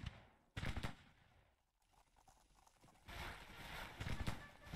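Civil War artillery guns fire during a Confederate historical battle in Grand Tactician: The Civil War. Two clusters of sharp, rapid reports come at a moderate distance, separated by a quieter lull.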